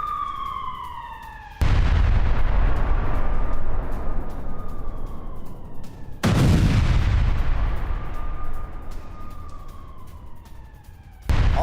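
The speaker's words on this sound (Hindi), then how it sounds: "हमास के ठिकानों पर बमबारी की गई" Israeli bombardment of Hamas positions in Gaza lands as three heavy, booming blasts spaced several seconds apart, each with a long rumbling decay. A faint wailing tone rises and falls between the impacts.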